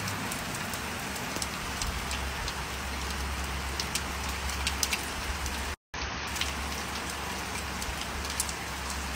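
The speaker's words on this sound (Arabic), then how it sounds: "شوفوا الأمطار" Steady rain falls in Abha, a dense, even hiss of drops hitting surfaces with scattered sharper patters and a low rumble underneath, continuous apart from one brief dropout.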